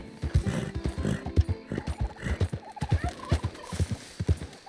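A horse whinnying and snorting in the video game Red Dead Redemption 2, a run of close, loud, throaty bursts and blowing breaths in an uneven rhythm, with no speech.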